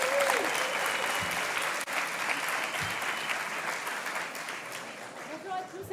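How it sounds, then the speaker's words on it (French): A conference keynote audience applauds loudly and steadily for about six seconds, a dense wash of clapping with some crowd noise and voices mixed in. "moi je veux des applaudissements de dingue"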